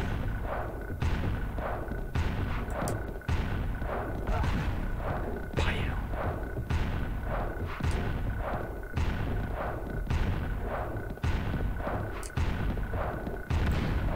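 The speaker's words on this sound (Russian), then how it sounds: "А что это там в соседней комнате взрывается сейчас, да?" Explosions boom from the next room in the PS1 game Oddworld: Abe's Exoddus as repeated heavy, evenly spaced thuds over a steady game background.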